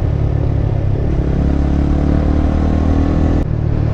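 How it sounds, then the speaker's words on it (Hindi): Yamaha R15 new-generation motorcycle fitted with an Akrapovic exhaust, ridden at a steady cruise after rain, its engine droning continuously and close with a brief dip near the end. "अभी मतलब बाइक को थोड़ा फूल के चला पा रहे हैं"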